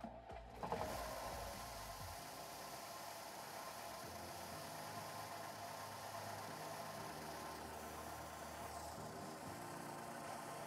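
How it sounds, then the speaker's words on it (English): A small engine, tuned with a 4 to 4.5 mm drilled jet, starts with a brief burst and then settles into a steady, even running drone that holds at a constant level to the end, with no talking. "but go start the engine."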